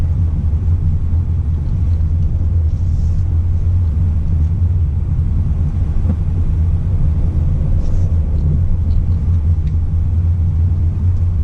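A 2019 Subaru Crosstrek with all-wheel drive rolls over bumpy ground, heard from inside as a loud, steady low rumble of road and engine noise with faint knocks, no voices.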